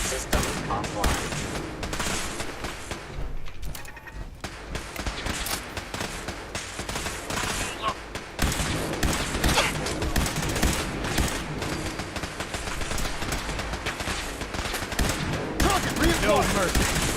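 Sustained automatic gunfire and rapid bursts of shots in Fallout 4, loud and continuous with dense overlapping fusillades and a brief lull near the middle, under faint voice talk.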